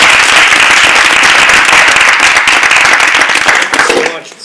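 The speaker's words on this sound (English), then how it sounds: "let's give her a big round of applause for starting" An audience at a school talk breaks into loud, close, sustained applause that holds steady before tapering off at the very end.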